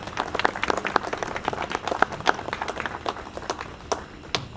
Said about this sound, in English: Let's give the Hawthorne High School Junior ROTC a round of applause.